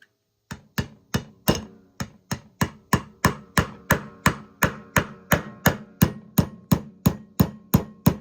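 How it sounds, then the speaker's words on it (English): A super small hammer taps steadily on an AR-15 trigger pin, about two dozen sharp metallic knocks in an even rhythm, close and clear with no talking. "Just light taps. I got a super small hammer here"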